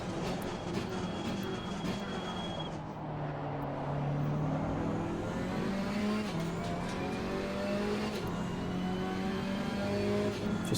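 A KTM X-Bow race car in Assetto Corsa Competizione laps Hungaroring, its engine droning steadily throughout with rising and falling pitch as it revs and shifts, loud and continuous with no talking.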